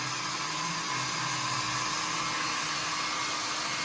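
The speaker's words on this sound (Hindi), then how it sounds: "ड्रायर से सुखाना पड़ता है थोड़ा।" A hair dryer blowing steadily to dry a child's hair after a bath, a loud constant whirring roar with no break and no voices.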